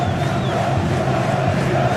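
Vasco football fans in a stadium crowd during a Copa Sudamericana 2011 match, a loud, continuous roar of cheering and chanting filling the space without a break.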